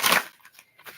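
Tarot cards get a final shuffle: one crisp, papery riffle burst up close, followed by a few faint light flicks as the deck settles.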